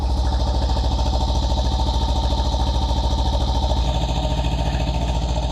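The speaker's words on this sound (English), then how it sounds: "let's go ahead and fire this puppy up. So yeah, there's our off on. All right, so let's take a listen to the exhaust." A Kawasaki Versys X 300 parallel-twin motorcycle engine idles steadily with a quiet, low, even exhaust pulse, close by, with a slight change in tone near the end.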